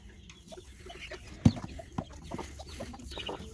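Aseel and Light Sussex hens with their mixed chicks cluck in a cage, soft scattered clucks and peeps near and far, with one sharp louder knock partway through and no talking.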